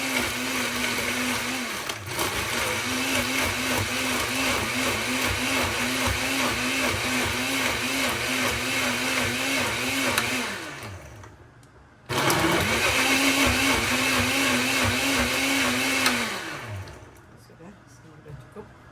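An electric blender whirs loudly at high speed making a healthy homemade juice, running steadily for about ten seconds, stopping briefly, then running again before winding down to silence.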